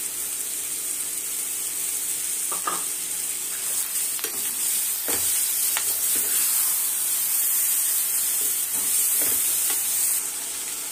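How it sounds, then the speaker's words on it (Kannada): Tomato paste frying for a Mandya-style chicken gravy, a steady loud hiss and sizzle throughout with occasional soft spoon scrapes and stirring knocks. "ಈಗ ಟೊಮೊಟೊ ಪೇಸ್ಟ್ ಹಾಕ್ತಾ ಇದ್ದೀನಿ."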